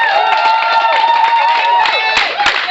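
A church congregation cheering and shouting in acclamation of the Lord, a loud, dense roar of many voices with whoops and scattered clapping, sustained throughout.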